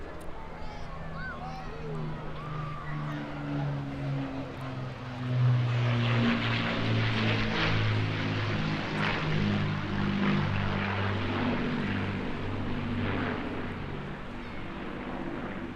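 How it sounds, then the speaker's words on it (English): A Roy Chadwick-designed piston-engined propeller aircraft flies over a seaside airshow, a steady droning engine roar that swells from about five seconds and holds, with crowd and commentary murmuring beneath. "Quite extraordinary and massively outstanding aircraft out of the design stable of Roy Chadwick."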